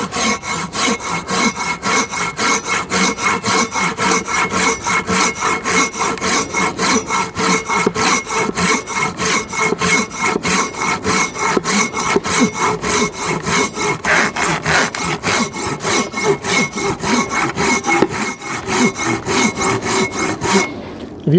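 Silky Big Boy 2000 XL pruning saw cutting through a roughly four-inch piece of wood, a fast, regular back-and-forth rasp of strokes, loud and close, continuing steadily for the whole stretch.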